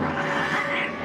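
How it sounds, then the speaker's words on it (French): A cartoon cat yowls in a continuous, strained caterwaul lasting about a second, loud and close, with no talking over it. "regarde donc mon chat, juste là"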